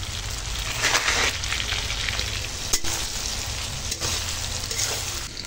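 Egg, prawn and vegetable fried rice is stir-fried in a wok in a village-style kitchen: dense close sizzling with repeated stirring scrapes and a few sharp clanks.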